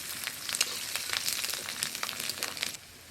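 Black mustard seeds, fenugreek and chopped garlic cloves sizzle in oil left from frying fish, a soft crackling and spitting with light stirring, close but fairly quiet, with no talking.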